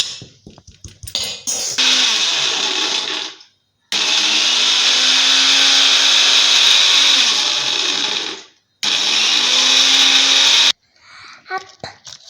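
A kitchen mixer grinds Oreo biscuits in loud, steady whirring bursts, three long runs with short pauses between them and brief clatter at the start and end.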